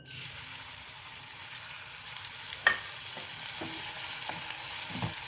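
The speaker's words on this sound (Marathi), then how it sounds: "यात आता आपण या ज्या शिरा आहेत दोडक्याच्या त्या तळून घेणार आहोत।" Ridge gourd ridges frying in hot oil in a pan, a soft steady sizzle with occasional sharper pops and stirring scrapes, heard up close and fairly quiet.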